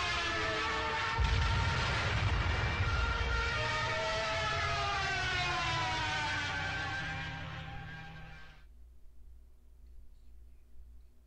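Dive siren of a German Stuka bomber, the Jericho trumpet, wails loudly and steadily with a rising-falling howl for about eight seconds, then cuts off abruptly into near silence.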